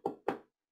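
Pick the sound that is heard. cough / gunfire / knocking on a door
knocking on a door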